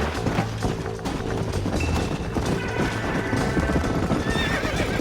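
Horse in the game Red Dead Redemption, hooves clip-clopping at a gallop with a whinny breaking through, continuous and fairly close amid busy game ambience and music.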